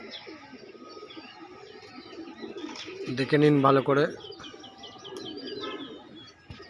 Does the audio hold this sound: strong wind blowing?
no